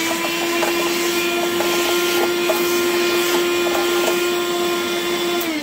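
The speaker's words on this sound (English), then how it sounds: "I do vacuum it up as I go." Vacuum cleaner running continuously up close inside a Blue Bird Wanderlodge motorhome, sucking up debris during a light fitting swap, a steady loud whine with occasional small rattles and clicks of particles being drawn in.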